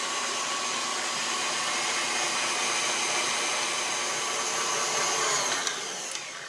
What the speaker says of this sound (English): I ran my mixer here for about 2 minutes